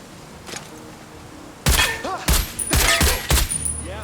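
Gunfire in a video game shooter: after a stretch of low ambience, a burst of loud, close shots in several heavy bursts with ringing echoes, and no speech during the firing.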